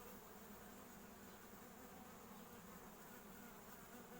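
Steady, dense buzzing of many honeybees flying fast around a hive, constant and close throughout with no voices.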